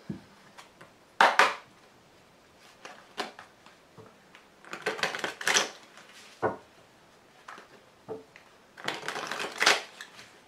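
Tarot cards shuffled by hand in bursts of riffling and slapping, several clusters of crisp papery rustles separated by short pauses, close and moderately loud with no talking.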